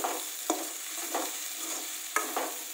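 Okra is stirred and fried in oil in a pan, with a steady soft sizzle and scraping stir strokes landing at irregular intervals, close and fairly quiet, no talking.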